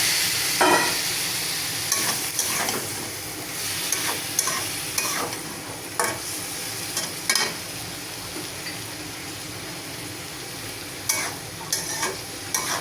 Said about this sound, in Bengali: এখানে আমার সবজিগুলো এখন মশলার সাথে মিশিয়ে নিলাম